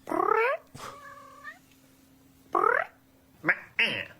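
A man mimics a cat's meow with his voice, giving several drawn-out, wavering meows in a row, close and fairly loud, with short pauses between them.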